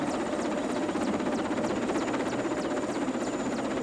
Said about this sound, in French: l'hélicoptère du bord va déposer ses caisses de matériaux et de nourriture.